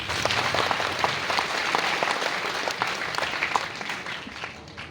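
An audience at a Bihar Sharif town hall program rewarding top students breaks into sustained applause, a thick, steady wash of many hands clapping at fairly close range for about five seconds.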